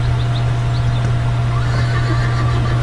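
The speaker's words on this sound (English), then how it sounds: "I think that's the same horse I got." A horse neighs in a Wild West video game, its loud whinny rising over a steady low engine-like hum and background game ambience, with no talking.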